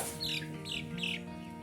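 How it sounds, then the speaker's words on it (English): Chickens on a farm with slow growth cluck and chirp in a few short bursts, close and moderately loud, with a steady background hum underneath. "We have another bird right there."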